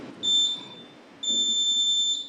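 Electronic countdown clock at a council meeting sounding two sustained high beep tones, the second long and steady, over faint room murmur with no speech.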